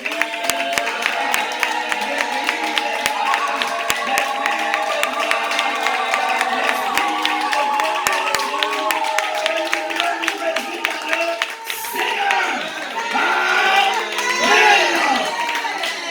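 A church congregation at a French-language worship service claps and cheers in joyful acclamation, a loud, busy layer of voices and hands mixed with music that swells toward the end.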